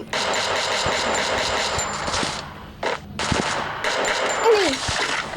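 Rapid automatic gunfire from the Free Fire video game rattles in dense, loud bursts with a short break in the middle, alongside brief engine-like whines and a faint voice in the background.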